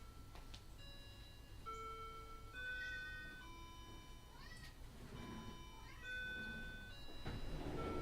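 A cat meows repeatedly at a door, wanting to be let back inside: a series of clear, tonal, rising and falling cries spread across the stretch, fairly close and loud over a quiet room with a low hum.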